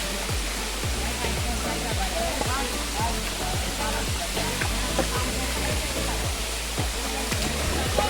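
Khoiyachora waterfall's first cascade in hilly terrain pours as a steady, loud, broadband rush close by, with faint voices mixed under the water.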